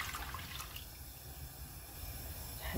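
Rice-rinse water pours steadily into a pot for Korean beef and radish soup, a continuous close liquid rush with no talking.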